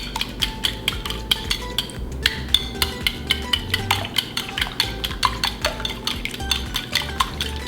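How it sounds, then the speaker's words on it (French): Eggs are whisked briskly in a bowl for an omelette, the utensil clicking against the sides in a quick, steady rhythm of sharp taps that runs the whole time, close and fairly loud. "Et vous allez battre l'omelette."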